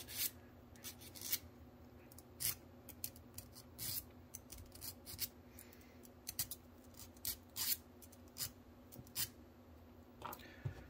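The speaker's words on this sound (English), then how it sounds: "We're just going to clean these sockets" Small electrical sockets on an Athearn SD40-2 model locomotive being cleaned, with soft, close scratching and rubbing strokes in irregular bursts over a faint steady hum, with no talking.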